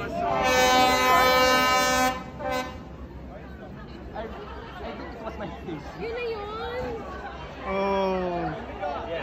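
A train rolls through Hanoi's narrow train street, sounding a loud, sustained horn blast right up close before rumbling past, as people chatter excitedly nearby.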